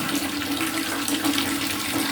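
Dirty, discolored tap water running from a household faucet, a steady loud rushing stream with a constant hiss and no pauses.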